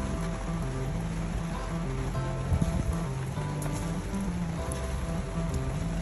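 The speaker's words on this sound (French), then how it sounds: "Merci la pluie. Il va être ultra rincé." Steady rain patters across a sailboat moored at Póvoa de Varzim in northern Portugal, an even, continuous hiss with faint low tones underneath.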